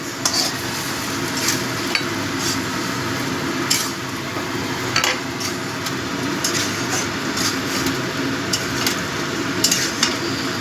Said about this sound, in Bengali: গরম জল দিয়ে সব মশলাগুলো কষিয়ে নেব ভালো করে কষিয়ে নেব